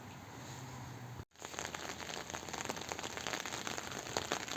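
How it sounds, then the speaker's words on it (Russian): Steady rain pattering on a surface, dense crackly drops continuing after a brief cut near the start. "Ну, зарядил дождик."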